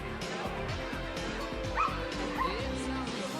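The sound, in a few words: fire brigade canine unit dog barking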